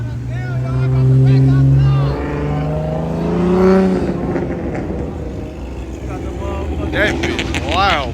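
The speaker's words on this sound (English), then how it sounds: "Hey, rev it." A car engine at a Chicago street car meet revs hard several times, loud and close, rising and falling in pitch amid a crowd of people talking and shouting.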